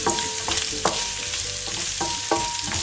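Garlic and onion sautéing in a pan for Ilocano pinakbet, with a steady loud sizzle broken by regular scraping stir strokes every half second or so, no talk.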